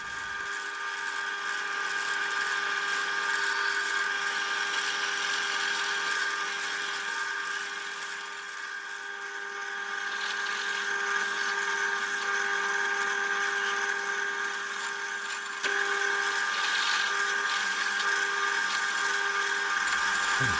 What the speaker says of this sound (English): drill right through, put the template on the other side